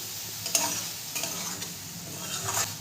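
Bottle gourd greens cooked with poppy seed paste and raw mustard oil are stirred in a pan, a steady soft scraping and light sizzle with a few sharper spoon clinks, close and continuous.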